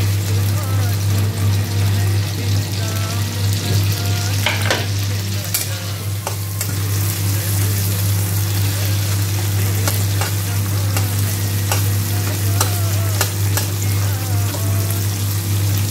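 Onion and garlic, added after cumin and mustard powder, fry in a hot pan for a moringa curry masala. A steady close sizzle runs throughout, with scraping stir strokes against the pan and occasional clinks.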